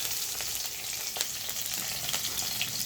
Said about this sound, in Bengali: মাছগুলো সুন্দর করে ভেজে নিয়ে